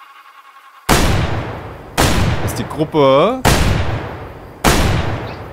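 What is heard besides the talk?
hunting rifle gunshots in video game Way of the Hunter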